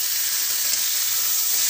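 Potatoes are dropped into a hot frying pan and give a steady, close, bright sizzle with faint stirring underneath, heard alone without talk.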